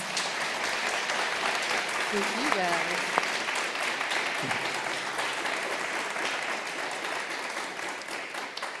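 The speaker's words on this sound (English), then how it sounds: "Could I get a round of applause?" An audience applauds at a panel event on homelessness, steady sustained clapping throughout, with a brief spoken thanks from someone near the stage over it.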